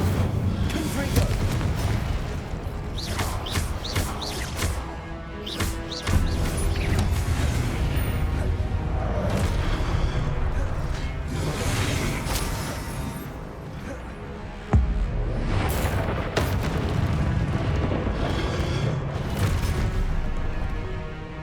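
Incendio and Confringo spell blasts in the Hogwarts Legacy video game: repeated loud fiery bursts and booming impacts, with one sharp heavy hit, over a dense, continuous battle din.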